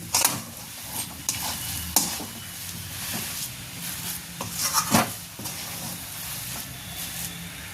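A spatula stirs a hot jaggery and grated coconut laddu mixture in a pan, giving a steady scraping, rubbing texture with a few louder clinks of metal on the pan, close and moderately loud, with no talk.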